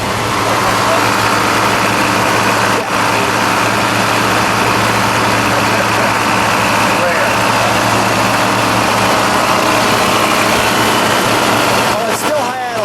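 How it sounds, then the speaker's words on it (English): A 1970 Mercury Cougar Eliminator's Boss 302 V8 holds a steady, loud high idle up close, its dense rumble continuous from start to finish with brief mechanical clicks near the end. "While it's still rolling, because it's still at high idle"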